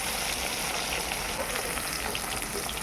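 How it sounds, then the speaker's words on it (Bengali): Pomfret fish frying in hot oil, a steady dense sizzle with fine crackling throughout, close and fairly quiet with no voices. "আর যে দুটো মাছ আছে সেই দুটো মাছকে ভেজে দিচ্ছি একটু লাল করে ভেজে নিলাম"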